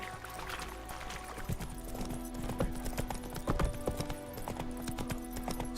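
A horse gallops in The Witcher 3, steady clip-clopping hoofbeats close and continuous over a low ambient game soundscape, with no talk.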